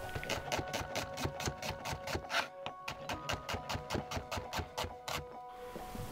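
A knife thinly slicing halved red onions on a board, regular close rhythmic chops of about four to five per second with a brief pause midway, then stopping near the end, no voices.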